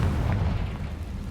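Confringo blasting spell in Hogwarts Legacy exploding, a heavy, loud, rumbling boom that fills the whole moment and slowly fades.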